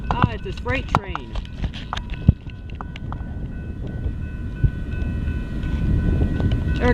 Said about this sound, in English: It's this freight train.